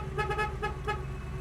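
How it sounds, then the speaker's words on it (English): A 1967 Chevrolet Camaro sounds its horn from inside the car in a few short toots, quick repeated honks of moderate loudness over a low engine idle. "inside our 67 Camaro, horn,"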